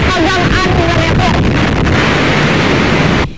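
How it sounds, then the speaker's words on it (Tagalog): Strong Super Typhoon Yolanda wind and rain rage near the sea, where waves run five to six metres high. A loud, unbroken roar of gusts and downpour buffets the microphone for the whole stretch, then cuts off abruptly at the end. "Halos mag-zero visibility na nga dahil sa lakas ng hangin at ng ulan."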